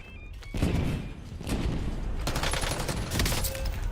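LC-10 submachine gun fire in Call of Duty, sustained loud rapid bursts close by with brief pauses between them, filling the whole stretch.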